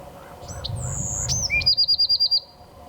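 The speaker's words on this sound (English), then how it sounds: "So Bewick's Wren can be a shy bird." Bewick's Wren calling in chaparral: a few high chirps and sweeping whistles, then a rapid run of about seven bright, evenly spaced trilled notes, fairly close and clear over a soft low background rumble.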